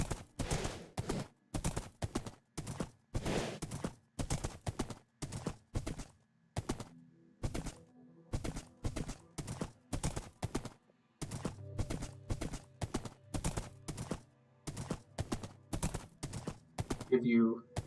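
Horse hooves clip-clop in a steady rhythm during riding in Minecraft, close and clear, with brief gaps in the pattern and a voice speaking near the end.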